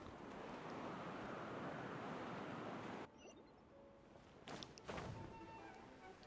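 A steady rushing wind current in Genshin Impact roars loud and broadband, then cuts off abruptly. Faint game sounds and a couple of brief whooshes follow.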